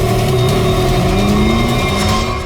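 A large red jeep-like car drives off, its engine loud and close, revving with a rising pitch as it pulls away.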